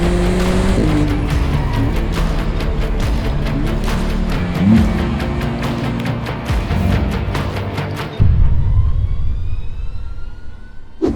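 A 2025 McLaren 750S driven hard, its engine roaring loud and close with rising and falling revs, tire squeal and rapid gear changes, before the noise cuts away abruptly near the end.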